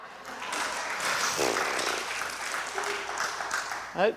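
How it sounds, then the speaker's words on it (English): Moderate audience applause during a church talk, a soft wash of clapping that swells slightly, with a brief louder burst near the end. "Yeah, you want to clap for that?"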